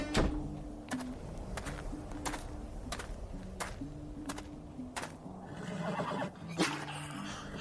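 An old horse whinnies loudly and repeatedly in a stable, long shrill neighs broken by wooden knocks and hoof thuds, heard close with no talking.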